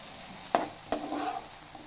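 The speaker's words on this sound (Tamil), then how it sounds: "ஸோ இந்த கேப்சிகமும் ஆட் பண்ணி நல்லா வதக்க போகிறோம்." Capsicum stirred into a pan of frying onion, tomato and green chilli, with a steady soft sizzle and two sharp spoon scrapes against the pan.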